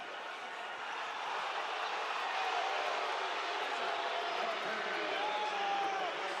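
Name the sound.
basketball arena crowd reacting, upset at a foul call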